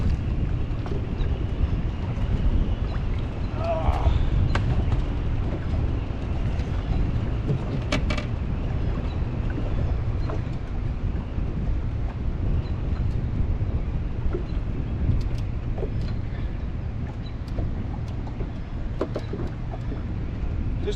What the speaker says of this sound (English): Oh, got a lot of wind, guys.